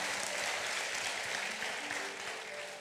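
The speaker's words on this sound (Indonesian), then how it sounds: "tepuk tangan sekali bagi Allah kita" Congregation clapping together after a call to praise God during a church sermon, a dense steady patter of many hands that holds fairly even before easing slightly toward the end.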